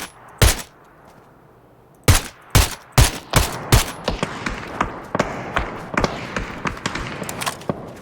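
Gunshots in the battle royale video game PUBG: sharp, loud isolated cracks at first, then quicker bursts of shots with fainter distant fire trailing behind.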